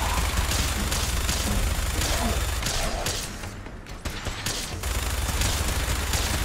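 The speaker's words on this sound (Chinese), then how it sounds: "防守战是真的壮观。 因为是用旋转机枪的。" Continuous minigun fire in Fallout 4 during an oil rig defense battle, a dense rapid stream of shots that briefly drops off midway, then resumes at full intensity, loud and close.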